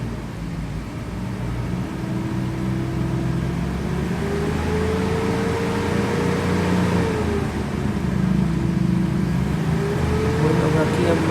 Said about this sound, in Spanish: ahora vamos a encender el vehículo. Vamos a pisar a fondo el pedal del acelerador